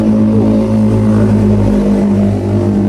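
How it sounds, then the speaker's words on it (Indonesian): Several motorcycles pass by at night on a road in Indonesia, their engines a loud, steady drone with strong low harmonic tones that swell and fade as they go by. "banyak motor lewat"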